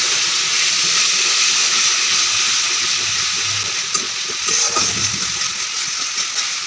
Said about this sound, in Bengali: সামান্য একটু জল দিচ্ছি